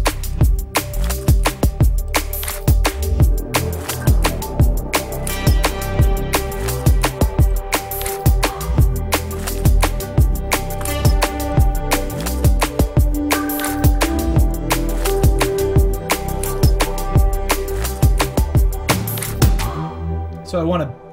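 Razor synth Reese bass built from a single sawtooth oscillator, its filter cutoff swept by an LFO, rumbles loudly and continuously with a slowly wobbling, shifting tone before cutting off at the end.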